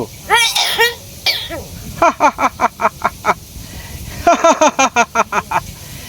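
A person coughs hard in repeated rhythmic bursts, two long runs of harsh coughs after some throat clearing, loud and close.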